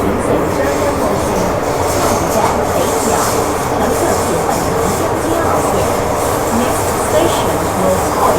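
A Hong Kong MTR metro train pulls into North Point station, producing a loud, steady rumble and rolling wheel noise inside the carriage, with voices faintly underneath.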